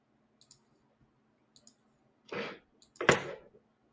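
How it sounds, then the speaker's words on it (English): Sparse mouse clicks, a few small soft ticks followed by two louder, longer clicking bursts close by, with no talking over them. "What you clicking on over there?"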